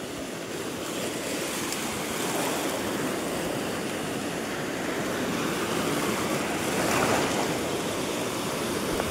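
Sea waves roll and wash continuously onto Wayangani Beach near Ratnagiri on the Konkan coast, a steady broad surf roar with gentle swells, fairly near and alone without any voices.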